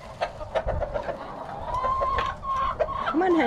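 Chickens cluck and squawk close by in a cold farmyard as ice and snow approach, with several short calls and a few higher tonal cries scattered over a busy background of rustling and movement.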